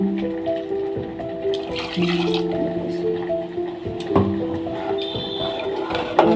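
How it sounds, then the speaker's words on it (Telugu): Water pours steadily into a mixer jar with a filling, gurgling sound while making lentil sambar, continuous for several seconds over soft tonal background music. "మిక్సీలో వాటర్ పోసుకుని అవి కూడా ఇలా కలుపు."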